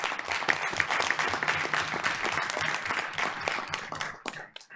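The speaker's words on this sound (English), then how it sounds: "So let's give them a round of applause for that." Board of Education meeting audience breaking into a round of applause for student presenters, dense steady clapping from a roomful of people that fades out at the end.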